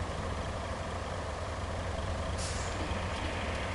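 Truck engine in the video game Roadcraft rumbling steadily at low volume, with a brief hiss partway through, on a truck whose bed has no sides; no voices.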